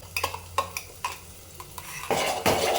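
Gongura (sorrel leaf) paste is stirred into onions in a pan, with repeated spoon scrapes and clinks on the metal pan, then louder sizzling toward the end. The sound is close, with no talk.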